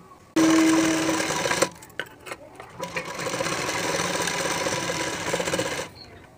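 A sewing machine runs a continuous stitch along a blouse strip, loud and close, with a steady whirring motor hum in a first long burst, a few short stops and starts, then another long run.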